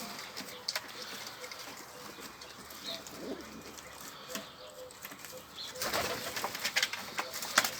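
Pigeons coo softly amid rustling and a brief flutter of wings, with louder shuffling and movement toward the end.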